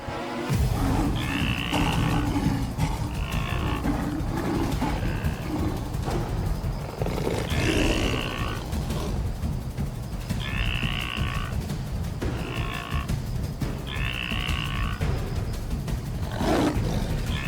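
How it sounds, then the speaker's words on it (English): A lioness attacking a wildebeest on the African savannah, heavy roaring and growling bursts repeating over a dense, loud rumbling struggle, with no talking. "The lioness launches."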